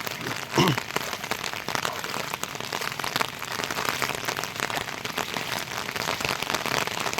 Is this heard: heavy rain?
yes